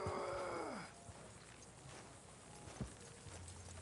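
Horse hooves plod at a walk in the Western video game Red Dead Redemption, soft low thuds stepping along under a brief tonal game sound at the start.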